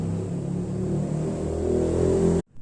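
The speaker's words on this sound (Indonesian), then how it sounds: "Saat mesin dihidupkan" A car engine runs at a steady, even drone up close, a loud humming rumble that holds for a couple of seconds and then cuts off abruptly into near silence.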